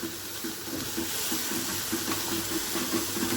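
A spiced vegetable mixture for a coconut modak bhaji cooks in a pan, making a steady close hiss and gentle bubbling with faint rhythmic low clatter underneath, no voices.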